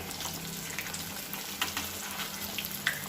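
Paneer pieces frying in a pan for paneer pasanda, giving a steady close hiss and sizzle with a few small crackling pops, nobody speaking.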